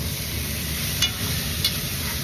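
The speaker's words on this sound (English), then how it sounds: "So stir this real good." A spoon stirs a pot of beef stew base with Maggi bouillon mixed in, a steady close simmering hiss with two faint scrapes and no speech.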